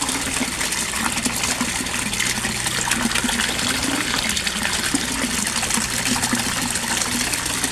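A Resun aerator pump drives strong bubbling in a koi fish pond, a dense, steady gush and trickle of water heard close and continuously throughout.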